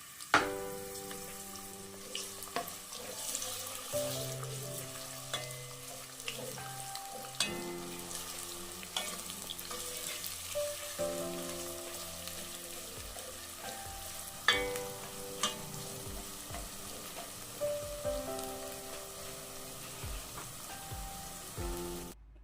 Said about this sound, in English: Allow the oil to heat up a bit, then go in with your sliced onions. Fry for about a minute or two.